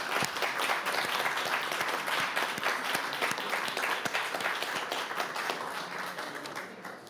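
Audience at the closing of an event on land restoration breaking into sustained applause, dense and lively at first, then gradually thinning and fading toward the end.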